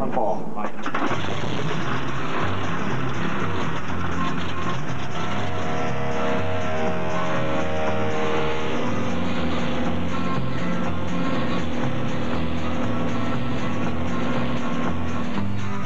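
A float plane's propeller engine drones steadily and loudly throughout in Alaska, a low rumbling roar with a faint wavering whine above it.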